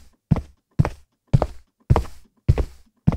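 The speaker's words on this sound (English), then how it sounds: "Sounds like footsteps." Six footstep foley hits from a Weaponiser drum-plugin preset, each a dull thunking step at a steady, slightly uneven walking pace, close and dry with short decays and no other sound.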